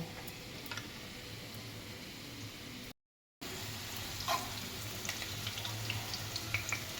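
Potatoes fry in a pan while a Bengali mutton curry is prepared, giving a steady, faint sizzle with scattered small crackles and a brief dropout partway through. No one talks.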